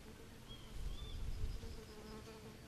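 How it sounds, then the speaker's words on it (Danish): A single bee buzzes faintly with a steady, wavering hum that swells and fades slightly as it drifts, with no voices nearby. "En bi."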